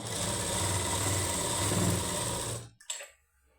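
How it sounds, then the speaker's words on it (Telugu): Sewing machine stitching a fall onto a saree: a steady, close, fast-running whirr and hum for about two and a half seconds, then it stops abruptly, followed by a brief clunk. "ఫాల్స్ అది రెండు ఇలా అనుకొని స్టిచ్ చేసుకోవాలి"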